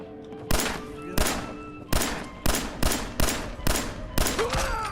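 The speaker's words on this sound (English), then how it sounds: "I was trying to shoot that gas tank, and I missed it every dang time" Gunfire in Fallout 4: seven or eight loud, separate shots at an uneven pace over a few seconds, each a sharp crack with a short decaying tail, with no talking.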